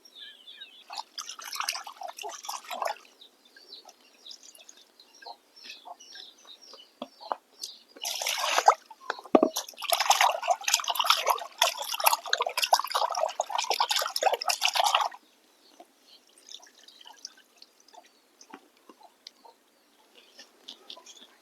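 Small pond fish are rinsed and washed by hand in a village setting, with bursts of splashing, trickling water broken by quieter pauses of faint drips.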